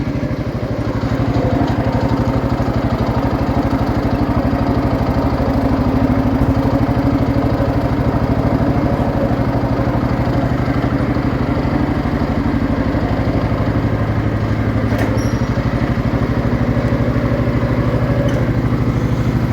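A 1969 Gravely 432 garden tractor's small engine idles steadily and loudly, set too high, for the whole stretch, a rough, even putter with a constant low rumble and no voices.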